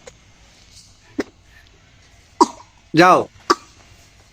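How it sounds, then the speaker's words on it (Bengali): A child at home coughs in a few short, separate bursts spaced over several seconds. A voice briefly says a word between the coughs. "তুমি কাশি দিতেছ?"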